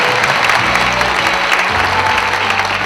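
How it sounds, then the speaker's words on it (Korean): An audience claps loudly and continuously to welcome city council members at a mayor's welcome ceremony in Seo-gu, a thick even roar of many hands with no pauses. "박수로 맞아주시기 바랍니다"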